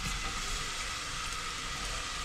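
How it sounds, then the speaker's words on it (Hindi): Finely chopped onion sizzles and crackles in half a cup of hot oil for a shalgam palak sabzi, a steady close hiss with no talk over it. "ऑयल गर्म हो जाएगा तो अब हम इसमें डालेंगे यही बारीक कटी हुई प्याज"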